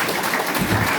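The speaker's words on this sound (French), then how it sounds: "Vous pouvez encore l'applaudir." A church congregation claps at a Sunday communion service, a short burst of steady, fairly loud applause from many hands.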